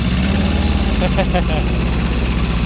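Small John Deere 650 4x4 diesel tractor running with a loud, close, throbbing engine drone that rises as it is given more throttle, while someone talks briefly over it.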